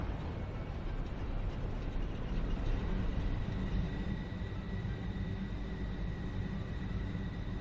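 Trains run steadily in the factory game Satisfactory, with generators overhead, giving a continuous low rumble and faint mechanical hum, quiet and unbroken throughout, with no voices.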